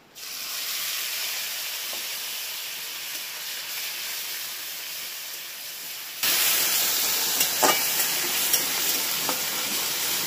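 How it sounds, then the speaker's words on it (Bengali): Onion paste dropped into hot oil for a gondhoraj katla fish dish, a steady frying hiss that jumps suddenly louder midway into a fierce sizzle with a few brief pops and stirring scrapes. "এইবার এই তেলের মধ্যে যে পেঁয়াজটা বেটে রেখেছিলাম, ওই পেঁয়াজটাকে দিয়ে দেবো"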